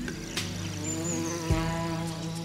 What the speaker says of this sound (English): Amorous scallard wasps are looking for love.